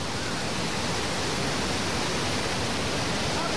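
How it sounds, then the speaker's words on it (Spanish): The Cavagra river rushes steadily with a loud, dense, unbroken flow of water and no other sounds rising above it. "este es el río Cavagra"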